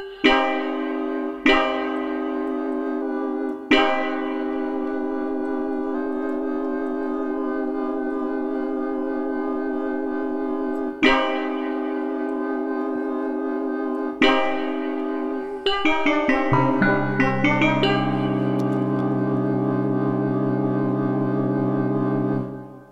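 Granular-synthesized bell tones with inharmonic overtones, several struck notes each ringing into a sustained drone, then a denser shimmering cluster sliding downward near the end.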